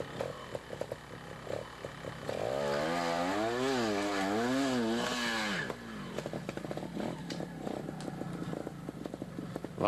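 Trial motorcycle engine revving hard as the rider climbs a ledge at the 1989 Trial World Championship in Canada, with a sustained, rising and falling high-RPM howl in the middle and sharp throttle blips before and after.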